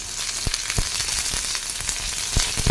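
Crushed garlic and curry leaves sizzling and crackling in a hot-oil tempering, a steady frying hiss broken by sharp pops and spatters, close up with no talking.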